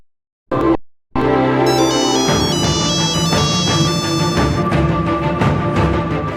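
An electronic phone ringtone sounds after a number is dialed, a bright melodic ringing pattern layered over a steady musical bed. It plays continuously and fairly loud for several seconds, with no talking.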